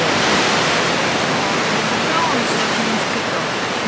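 Broad, steady roar of ocean surf at an Australian beach fills the whole stretch, loud and continuous with no distinct breaks.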